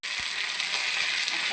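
Mustard seeds and urad dal tempered in hot oil for radish chutney, a steady close sizzle and crackle of frying throughout with a few faint pops.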